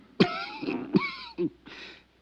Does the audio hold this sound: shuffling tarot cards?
no